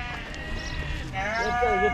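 Sheep at the crowded Uzynagash livestock market, bleating close by in the second half over a busy background of people talking and general market noise.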